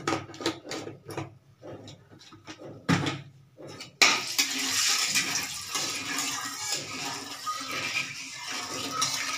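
Tangra fish fry in hot salted oil, first with scattered sharp pops and spatters. At about four seconds a loud, continuous sizzle takes over and holds steady, close to the pan.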